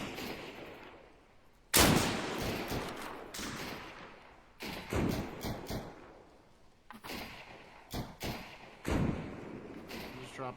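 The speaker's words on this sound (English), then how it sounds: "they're shooting at you" Gunfire from The Cycle: Frontier crackles in several bursts, one loud volley followed by repeated rapid shots at varying distance, with quieter gaps between them and people talking in the background.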